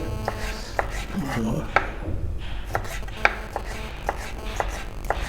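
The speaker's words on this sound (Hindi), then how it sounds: "ये इसको भी हम दरमियान में से काट लेंगे" A knife slices a piece of food in half on a board, giving a run of crisp, evenly spaced chops close by, with a short pause partway through; a voice murmurs faintly at one point.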